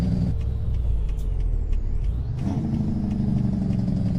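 Kenworth W900 truck in American Truck Simulator, a loud, deep diesel engine drone with a rising whine, then a sharp air brake hiss and a shift in the engine note partway through, no talking.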